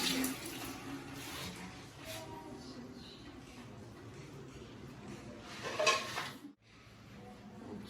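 Tap water running steadily into a kitchen sink while fruit is washed, a soft continuous splash with light clinks of dishes, cutting off near the end; a voice speaks faintly nearby.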